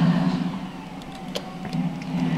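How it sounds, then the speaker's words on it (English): A bus engine in the OMSI bus simulator game hums low and steady while the bus drives, with a few faint clicks over the rumble. "You hear the bus engine."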